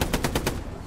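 Automatic gunfire in the World War II shooter Hell Let Loose, a short burst of about four rapid loud shots in under half a second, then fading.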